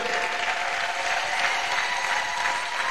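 A church congregation claps together to acclaim the Lord, a dense, steady wall of loud applause that carries without pause throughout.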